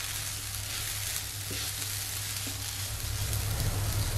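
Parwal seeds with green chilli and turmeric powder being stirred in a frying pan: a steady soft sizzle with faint scraping strokes, quiet and continuous.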